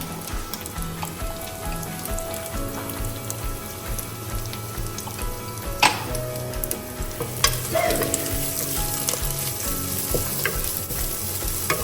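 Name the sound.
chili added to sizzling pork curry frying in pan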